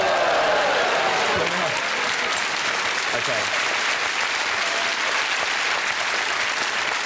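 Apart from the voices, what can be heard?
studio audience applauding a brandy flambé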